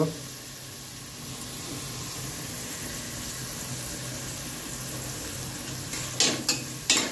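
Asafoetida dropped into hot oil in a pan while making dal khichadi, giving a steady, close frying hiss with a few sharp clinks of utensils near the end.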